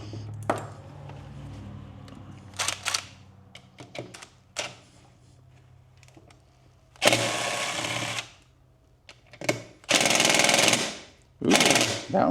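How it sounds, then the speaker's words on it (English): Power tool bursts loosening the engine case screws on the stator side of a DRZ400SM motorcycle engine during a rebuild, several loud rattling impact bursts with pauses between, close by. "I'm going to go ahead and remove all the case screws"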